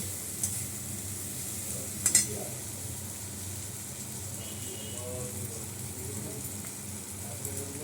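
Green jackfruit kofta being stirred in a pan, a soft steady sizzle with scraping spoon sounds and a couple of brief utensil clinks.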